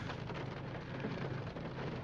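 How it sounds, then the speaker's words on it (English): Rain and wind beating against the side of a car during a storm, heard from inside as a steady dense hiss of drops on the body and windows with a low rumble underneath, continuous and close. "It's the rain picked up and the wind picked up. So it's hitting the side"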